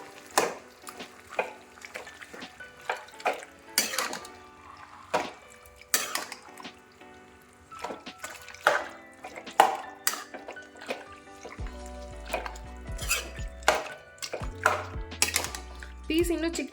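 Liver fry gets stirred in a pan, with a utensil scraping and clinking against the metal in irregular bursts over a soft bubbling simmer, and a low hum appearing in the later part.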